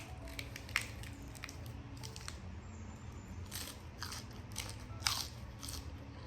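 Close, crisp bites into a crunchy Thai tam sua, a spicy papaya salad with khanom jeen rice noodles, with two sharp crunches standing out over soft, steady chewing and no talking.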